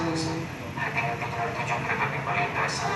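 A stainless steel Sembrani express train passes along an Indonesian railway, its rumble and wheel noise sustained and fairly close throughout, with people talking over it.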